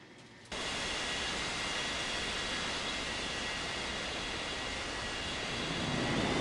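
Airplane engine taxiing in the Unmatched Air Traffic Control game, a loud steady jet roar that starts abruptly after a brief quieter moment and holds constant.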